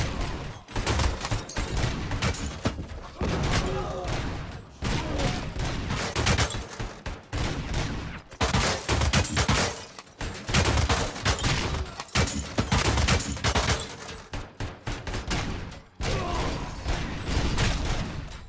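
Sustained gunfire from the Robocop: Rogue City video game crackles in loud rapid bursts broken by short pauses, with no talking.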